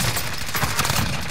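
Dense, continuous gunfire from the Call of Duty video game, rattling steadily and loudly for the whole moment with no pause and no talking.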